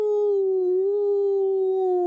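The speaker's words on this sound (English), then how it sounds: "That's the queerest howl I ever heard" A strange, eerie howl rings out as one long, steady wavering tone that holds without a break, loud and close, with no voices over it.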